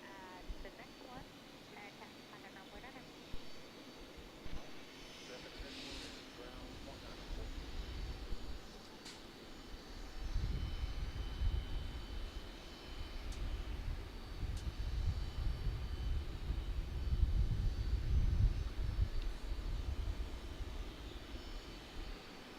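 A JetBlue airliner at Raleigh Durham airport, bound for Boston, gives a distant engine rumble that swells gradually into a loud, sustained roar, with people talking over it early on.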